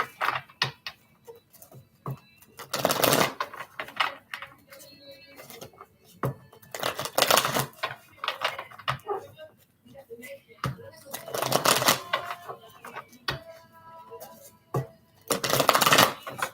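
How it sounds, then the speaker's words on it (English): Tarot cards being shuffled by hand, twelve shuffles in all, in bursts of riffling that come roughly every four seconds, close and fairly quiet, with faint ticking handling sounds between the bursts. "12 shuffles. Gonna cut the deck to myself."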